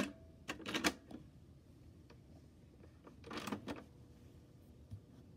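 A Maxell Type 1 60-minute cassette tape is handled and pushed into a tape deck, giving a few close plastic clacks and rattles in two short clusters amid quiet room noise.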